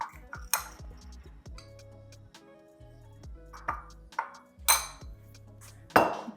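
Garlic powder, salt and pepper being mixed in a bowl, with a few distinct metallic clinks and scrapes of a utensil against the bowl, close and fairly quiet with short pauses.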